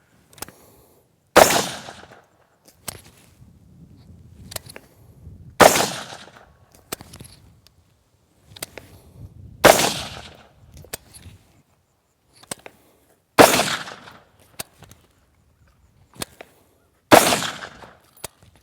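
Pistol shots at an outdoor shooting range, five sharp, loud single cracks spaced a few seconds apart, each with a short decaying echo, and quiet handling noise between them.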